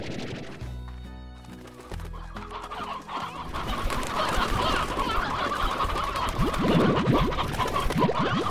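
Chickens cluck and scratch in a video game farm scene, a steady flock of hens close by, with music-like tones early on and busy clucking filling the rest.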